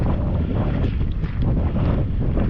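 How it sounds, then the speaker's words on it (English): Heavy wind buffets the microphone on a hillside near Helensburgh, Scotland, with a constant low rumble and roar, steady and loud throughout, with no voices. "it's a bit windy and I've forgotten my microphone"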